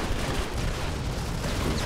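Sustained rapid gunfire crackles densely through a Modern Combat 5 match on iPhone 7 Plus, dense bursts of shots from behind in a continuous loud barrage with no pauses.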